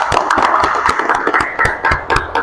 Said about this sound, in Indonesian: Terima kasih, tepuk tangan untuk kita semua.